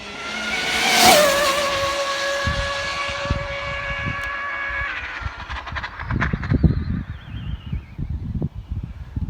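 Arrma Infraction RC car on a speed run, its Castle XLX2-powered motor rising to a loud high-pitched whine that sweeps up in pitch then fades as it passes into the distance, followed by scattered wind and handling noise.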